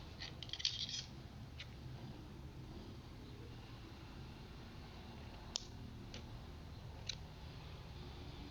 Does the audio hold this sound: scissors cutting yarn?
yes